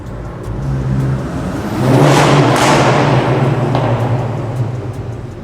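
VW MK8 GTI fitted with an MBRP cat-back exhaust, traction control cutting power: a loud, close, steady engine roar with choppy stuttering bursts, rising in force midway and holding, with no talk.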